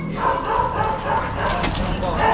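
A thin, sickly-looking pet dog back at the family home in Ayungon yips and whimpers in short repeated bursts, close by, under ongoing conversation from people nearby.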